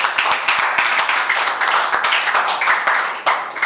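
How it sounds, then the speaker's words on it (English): A class applauds a student speaker during a class leader election, with brisk overlapping hand claps and distinct individual slaps standing out, loud and near, continuing throughout without voices. "Clap for him, guys."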